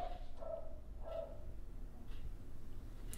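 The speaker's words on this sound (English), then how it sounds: "freaking most annoying dog" A few muffled dog barks come from a distance in quick succession, faint against a quiet, hissy background.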